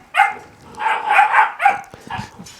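Puppies barking and yipping in short, high-pitched bursts, several quick yaps in a row at close range with no voices.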